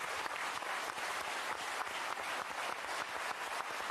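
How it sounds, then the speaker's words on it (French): Audience applause for comedian Olivier de Benoist on a French TV variety show, a continuous even roar of many hands clapping, full and steady from start to finish with no talk. "Allez applaudir Olivier"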